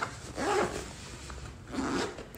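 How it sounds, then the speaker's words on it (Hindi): Zipper on a packed baby bag pocket pulled shut in two quick, raspy strokes, close and clear, separated by a brief pause, with no talking. "अब हम इसकी ज़िप को करेंगे बंद"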